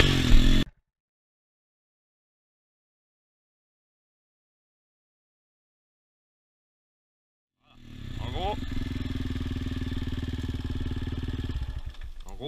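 A quad's engine idles and then revs hard with a clutch kick to lift the front wheels, coming in loud after a long silent gap and holding a rough, steady roar with some pitch sweeps.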